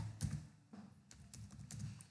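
An SQL command being typed on a computer keyboard: a quiet run of irregular key taps with a few sharper clicks, close and alone with no talking.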